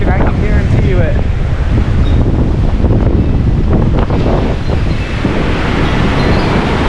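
A strong early-November windstorm roars continuously and loudly, buffeting the microphone with a heavy rumbling rush and no letup.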